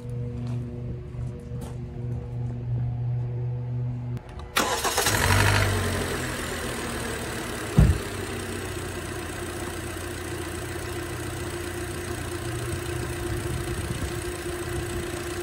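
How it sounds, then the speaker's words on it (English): A Hyundai car's overhead-valve 16-valve engine cranks and catches with a sudden surge, then settles into a steady, even idle that hums on alone. "let me start this engine and let you hear it run"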